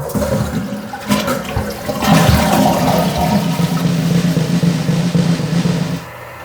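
A toilet flushes right after being installed, a loud, close rush of water swirling and draining for about six seconds before cutting off.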